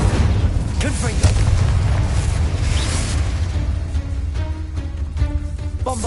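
Booming fire-spell blasts from Confringo in Hogwarts Legacy, played on PS5, rumble loudly and continuously through dense combat noise, with several sharp bursts breaking through the low, thick roar.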